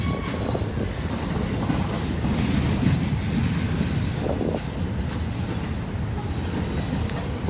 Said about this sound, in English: These two CSX trains.